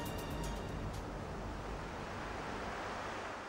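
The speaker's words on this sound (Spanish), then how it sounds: "La violencia del mar impacta en el viejo casco del buque" Stormy sea waves crash and surge against an old ship's hull, a loud continuous roar of water and wind with no voices.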